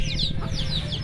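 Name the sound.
ducks and chickens calling in a rural village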